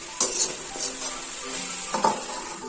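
Pumpkin palya being stirred in a pan over a low flame, a steady soft sizzle with a few scraping and clinking strokes of a spoon against the pan, close by and with no talk.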